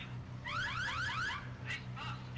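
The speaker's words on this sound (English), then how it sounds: "Is that an alarm system?" A car alarm chirps and warbles in quick rising sweeps, followed by a few shorter repeated bursts, moderately loud over a low engine-like hum at a car meet.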